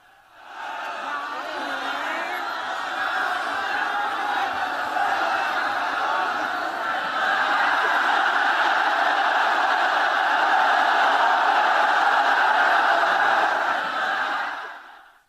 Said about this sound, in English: massive crowd again defied COVID-19 protocols at a burial in Zamfara State